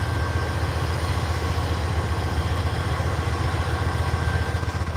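Diesel locomotive at the head of train 351 idling beside the track in a rail yard, a steady low rumble with even throbbing that holds throughout, close and fairly loud, with wind noise over it.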